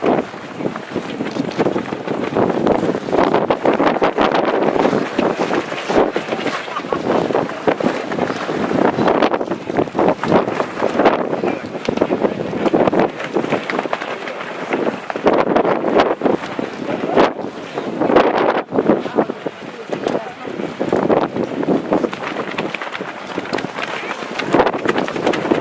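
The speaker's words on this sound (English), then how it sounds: "On this very windy day to the Manzanar Pilgrimage" Strong gusts buffet the microphone throughout on a very windy day at an outdoor Manzanar Pilgrimage gathering, a loud continuous roaring rumble with uneven surges and no break.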